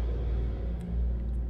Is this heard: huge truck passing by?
yes